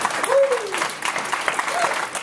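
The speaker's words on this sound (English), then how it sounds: "feel free to clap." An audience at a panel discussion event applauds as the moderator is introduced. The clapping is steady and moderately loud, and a brief voice or whoop rises over it near the start.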